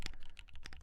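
Fingers type quickly on a Sunset 80 D84 mechanical keyboard, a short close burst of crisp, evenly spaced key clacks.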